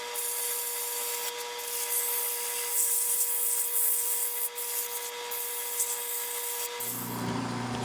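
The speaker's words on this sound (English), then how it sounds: "I'm just going to go through each grit at slow speed, sand the trees down." Steady, hissing abrasive rubbing as sandpaper works wooden Christmas tree turnings spinning on a lathe at slow speed, continuous and even throughout, with a faint motor tone underneath and a brief change at the end.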